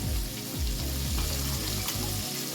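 Flour-coated quail fry in hot oil on medium-high heat, giving a steady, close, dense sizzle and crackle that runs without pause from start to finish.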